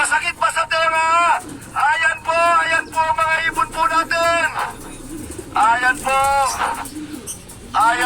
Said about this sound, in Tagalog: hindi po tumitigil lumabas sa mga ibon po natin